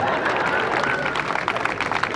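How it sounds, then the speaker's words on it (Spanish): A live audience gives dense, continuous applause in a comedy show setting, with crowd noise mixed into the clapping as it trails off at the end. "Un aplauso para ese puto, va, un aplauso."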